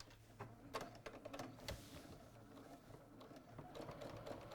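Sewing machine running a normal straight stitch through heavy vinyl fabric, a faint, steady mechanical whirr with a light rapid needle patter, continuous and close but quiet, no voice present.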